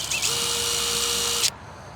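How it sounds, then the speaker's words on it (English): A power drill pre-drills a screw hole during a single door installation, with one steady high whine that runs for about a second and a half and then cuts off, close and loud. "I'm going to go ahead and pre-drill my first hole here."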